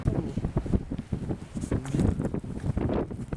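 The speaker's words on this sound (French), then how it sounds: "Il y a tellement de vent." Strong wind gusts buffet a sailboat, a steady roaring rush with fluttering bursts close to the microphone, no talking.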